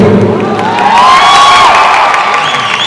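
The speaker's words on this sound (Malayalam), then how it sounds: "ഒരു പ്രാവശ്യം കൂടെ ആ കയ്യടി തരുമോ?" A crowd at a film promotion event for Sarkeet with Asif Ali claps and cheers loudly, a dense, continuous burst of applause mixed with whoops and shouts lasting a few seconds.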